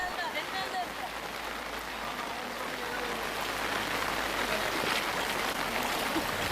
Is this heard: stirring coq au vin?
no